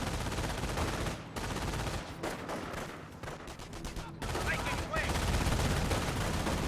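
Schwimmwagen gunfire raking a Rifle Squad in Company of Heroes, a dense, continuous rattle of shots and impacts with a brief lull mid-way, loud and close, mixed with battle noise.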